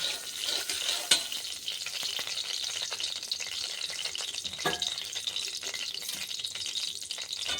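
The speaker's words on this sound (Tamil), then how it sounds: "இப்போ சோம்பு போடுறேன். நல்லா பொரியட்டும்." Fennel seeds fry in hot oil for a Chettinad cabbage and potato masala, a loud steady close sizzle with occasional sharp crackles and stirring scrapes, no voices.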